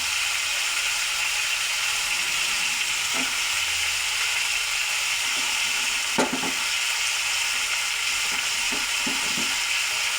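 Turmeric, chilli and cumin powder are stirred in a frying pan, a steady hissing fry with occasional scraping knocks of the spatula, close and without talk.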